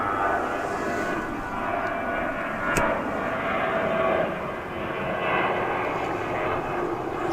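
An airliner takes off at DFW Airport on a flight to Mexico City, giving a steady, broad jet roar that holds at an even loudness throughout, with a faint voice briefly underneath.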